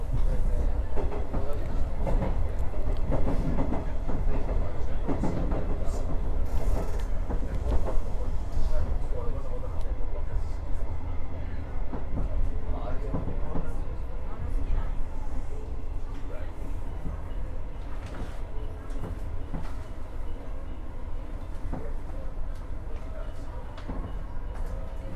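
An Osaka Higashi Line train rolls into Shin-Osaka station from the inside, with a steady low rumble, rhythmic wheel clatter over rail joints and the rumble easing as it slows. Someone narrates over the train noise.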